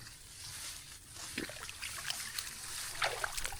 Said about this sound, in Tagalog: Kaya pakawala na natin tubig niya para mabilis maubos.